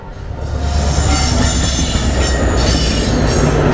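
A Kamakhya-bound express from Ranchi passes close by, a loud continuous rumble of wheels on rails with metallic squeal and rattling carriages building within the first second and holding steady, no voices.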